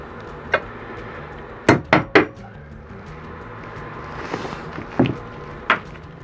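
Several sharp metallic knocks from a hammer striking recycled tin cans ring out, a quick cluster of three then scattered single hits, over a faint background hum.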